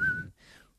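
A person whistles a short, faint tone that slides slightly downward, then a softer second tone follows and wavers, with a bit of breathy noise underneath.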